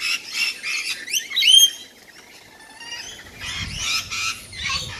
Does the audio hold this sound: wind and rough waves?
no